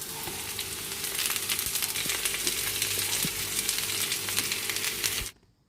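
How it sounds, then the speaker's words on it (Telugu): Thinly sliced country tomatoes fry in a hot pan with a dense, steady sizzle while a utensil scrapes and stirs through them, before the sound cuts off abruptly near the end. "ఇప్పుడు ఈ టమాటో అంతా బాగా మిక్స్ చేసుకుందాము"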